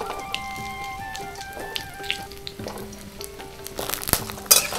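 Cut potatoes hit hot mustard oil tempered with dried red chili for a sesame and pointed gourd curry, a soft steady sizzle under faint background music that turns into sharper, louder crackles near the end.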